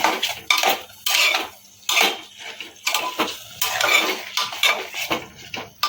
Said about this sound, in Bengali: এবার আবারও ভালো করে নেড়ে চেড়ে নেব ভালো করে মিশিয়ে নেব